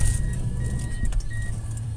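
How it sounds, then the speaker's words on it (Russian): A car's engine idles low and steady while the vehicle sits stuck in a snowstorm near Anadyr, Chukotka, a muffled rumble with faint wind hiss and a light metallic jingle over it. "тут вот машина застряла"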